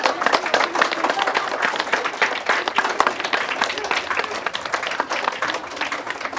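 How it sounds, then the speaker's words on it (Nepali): An audience claps steadily and densely throughout at a Teej programme of a disability unity organisation, with a faint voice or two underneath. "बाबुहरू ताली पर्काउँ है।"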